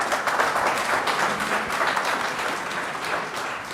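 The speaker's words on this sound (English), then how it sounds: "I already know some people will clap anything." Debate audience applauding steadily, a dense, sustained wash of clapping from a crowded hall that holds at an even level throughout without a break.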